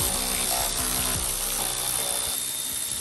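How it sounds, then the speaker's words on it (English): A Milwaukee ratchet with a T30 bit spins out screws on a car's front bumper, a short run of buzzing motor whir and clicking, fairly close. "If you got one of these Milwaukee ratchets, they are a big help."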